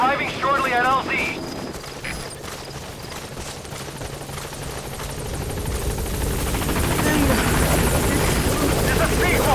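The Pequod helicopter from the video game Metal Gear Solid V arrives at a landing zone, its rotor drone building louder and nearer over the final seconds, with a radio voice talking near the start.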